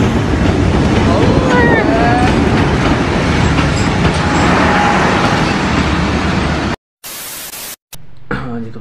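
Train arriving at a station in Karachi, Pakistan: a loud continuous rumble and rattle of rolling wagons with faint squeals, broken by abrupt cuts near the end.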